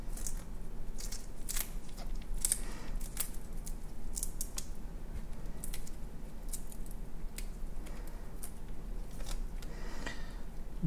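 Cooked Costco shrimp having skewers pulled out and shells peeled off for nigiri: faint, close, irregular clicks and small crackles with soft squishy handling noises over a quiet room hum.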